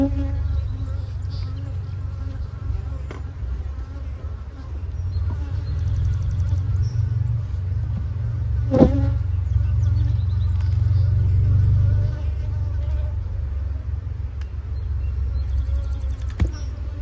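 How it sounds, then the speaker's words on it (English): Honey bees buzz steadily around a crowded beehive that is producing honey, a dense continuous drone close by with no talking. "Full of bees."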